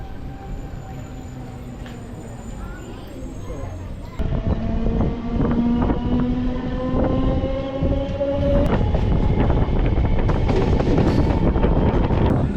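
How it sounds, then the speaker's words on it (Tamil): A MEMU passenger train slows to a stop at Walajah Road railway station, its steady rumble and wind noise close by, with a shift in tone partway and tonal motor whines rising then fading as it halts. "அடுத்ததாக ட்ரெயின் இப்போ நிற்கிறதாங்க வாலாஜா ரோட் ரயில்வே ஸ்டேஷன்"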